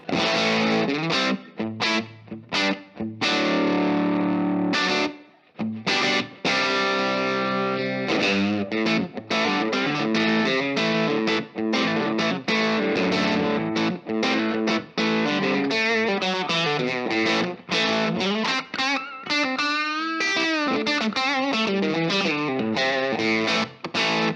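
Distorted electric guitar plays gritty chords and riffs through a crunchy Laney Lionheart LT5H valve amp, loud and sustained with rhythmic breaks.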